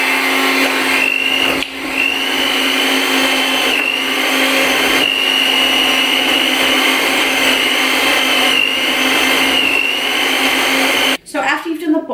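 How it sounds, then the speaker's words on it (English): An electric mixer beats soft butter for cupcakes with a loud, steady whirring whine, pitch wavering slightly, with a brief dip and then stopping near the end. "So I'm just going to pop that into the mixer"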